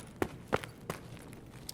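Footsteps of a running player in the shooter game Escape From Tarkov, three or four distinct thuds spaced unevenly and growing fainter as he moves away, with a few softer taps after.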